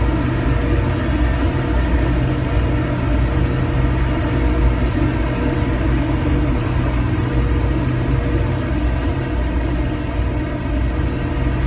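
SEPTA GE Silverliner IV electric multiple unit in Trainz 2019 gives a steady, loud rolling rumble of wheels on track with a constant low engine drone beneath, unchanging throughout.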